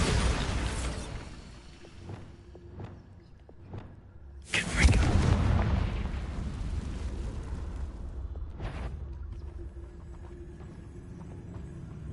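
Bombarda explosion spell cast in Hogwarts Legacy, a sudden loud blast that rumbles and decays over several seconds, preceded by scattered softer impacts and followed by a lingering ambient wash and another sharp hit.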